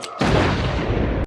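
A bomb goes off in the action film Skyscraper, one sudden loud blast that lands after a brief hush and rolls on as a sustained, dense roar.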